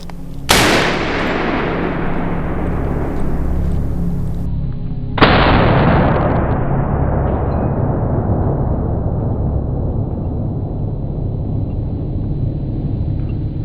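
Two powerful rifle shots fired into stacked titanium and steel plate metal, each a loud, sharp blast followed by a long rolling echo that decays slowly, the second about five seconds after the first, with no talking.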